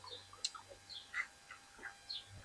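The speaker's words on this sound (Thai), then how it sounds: "เสียง นก กระหอง" Faint, brief bird chirps sound at scattered moments over a quiet, hushed background with a low steady hum.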